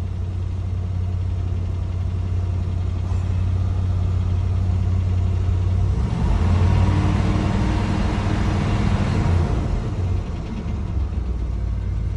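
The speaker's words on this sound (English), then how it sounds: "Little high idle for a minute while we sit here." A 1969 GMC big-block truck engine holds a steady, fast idle up close, a loud continuous low rumble with a brief swell in the middle and no talking.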